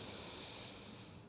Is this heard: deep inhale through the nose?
yes